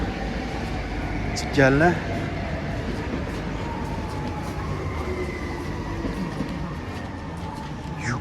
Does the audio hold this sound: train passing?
yes